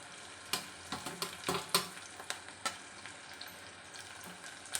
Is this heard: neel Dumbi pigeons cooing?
no